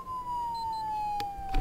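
Police car siren in a video game roleplay, a loud, steady electronic wail held close by with a slight downward drift, broken by a couple of short clicks near the end.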